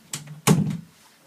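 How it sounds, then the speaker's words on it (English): An indoor door swings shut with a light bump, then a solid thunk as it closes, near and fairly loud, with nothing else around it. "I'll just go shut my door."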